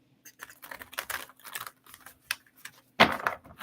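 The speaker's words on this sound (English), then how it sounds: "I'm going to do one more shuffle." Tarot cards being shuffled by hand in quick, close bursts of crisp flicking and riffling, with short pauses between bursts and a louder riffle near the end.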